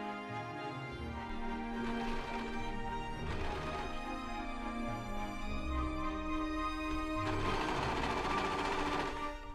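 A sewing machine runs a 3-step zigzag stitch, attaching stretched elastic to the waist of a floral summer top's front bodice. Its steady motor whir carries on throughout, swelling in a few louder bursts, with no talk.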